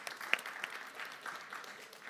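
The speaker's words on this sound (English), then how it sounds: "Let's give a round of applause for Michelle." Applause from an audience after a student-society interview event, a fairly faint, steady patter of many hands lasting a couple of seconds with a few sharper claps standing out.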